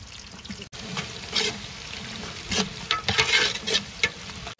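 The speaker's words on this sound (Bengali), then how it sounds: "পেঁয়াজটা হালকা ভাজা হয়ে গেছে।" Chopped onion and green chili fry in hot ghee in a pot, giving a close, steady sizzle broken by repeated scraping stirs and light spatters.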